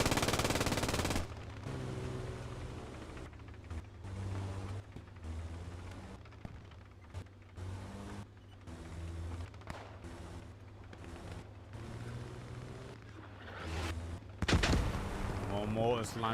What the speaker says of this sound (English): More mortars landing down. Very well placed mortars.